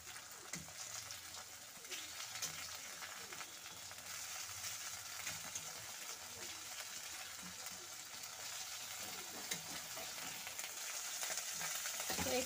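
Morola fish, fried crisp all together in hot oil in a wok with potato and tomato, give a steady, even sizzle that runs throughout at moderate loudness, with light stirring noises now and then.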